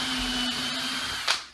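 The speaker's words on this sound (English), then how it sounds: "So we are going to drill a little pilot hole" A power drill runs steadily through wood for a small pilot hole on a rustic mug rack, a close continuous whine with a short sharp bump near the end, and no voices.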